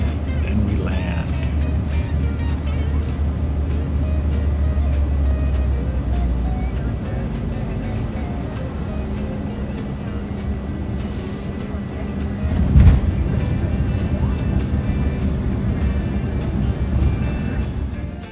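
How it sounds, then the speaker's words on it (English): Airliner landing at Louisville, a steady loud cabin engine roar with a low rumble, a brief thump near touchdown, under talk. "making our descent and coming in over Louisville. And then we land."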